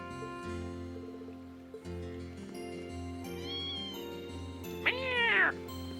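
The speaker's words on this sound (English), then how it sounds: "Tiny cat, kitty cat." A small cat meows, one drawn-out rising and falling cry heard clearly over a steady background of music and game sounds.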